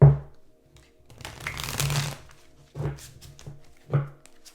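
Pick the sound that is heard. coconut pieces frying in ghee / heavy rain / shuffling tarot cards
shuffling tarot cards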